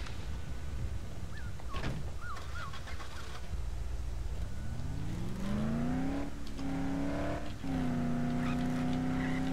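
A car driving in the zombie game Dead Island, with an engine whining and rising through the gears close up, alongside scattered clatter and no talking.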